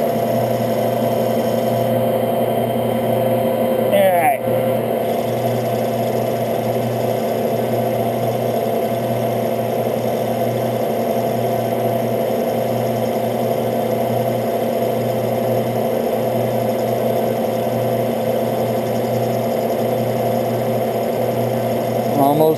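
A metal lathe takes a light cut on a rocker bushing for a Triumph Springer front end, giving a steady, continuous machine hum nearby for over twenty seconds, with one brief click early on.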